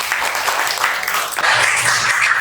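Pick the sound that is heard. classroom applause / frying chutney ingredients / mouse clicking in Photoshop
classroom applause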